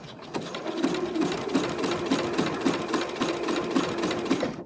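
Sewing machine stitching through doubled-up fabric for an espadrille dust bag: a steady, fast mechanical whirring with a regular stitching rhythm, close and continuous for several seconds without talk.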